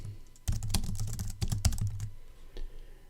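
Rapid bursts of computer keyboard typing as an API key name is entered, a quick clatter of keystrokes close and alone before trailing off.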